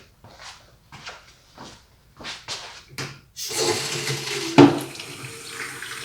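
After several short gurgles and spurts, water gushes steadily from a newly installed garden hose sink, a close, continuous splashing flow into the basin with one louder clunk partway through.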